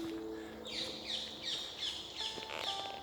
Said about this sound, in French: dans la forêt avec le chant des oiseaux